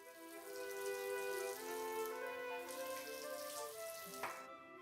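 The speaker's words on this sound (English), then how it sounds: "I turn on the sink and I wet my face with water." A bathroom sink tap runs steadily as water is splashed onto a face, a continuous close hiss and patter that stops abruptly near the end.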